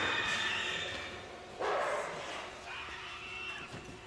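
A dog barks in the horror video game Until Dawn: a few yipping barks, with one louder burst midway, set against game ambience.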